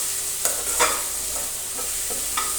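Garlic sautés in a pan with a steady sizzle while a spoon stirs it, giving a few light scraping taps over the continuous frying hiss.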